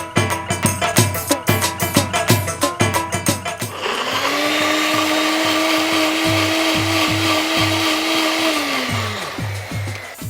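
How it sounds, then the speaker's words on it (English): A blender grinding cherry tomatoes to a pulp, starting with rapid rhythmic chopping pulses, then settling into a loud steady high-pitched whirring drone that winds down near the end, close up with no speech. "So that's my cherry tomatoes ground to a pulp going in."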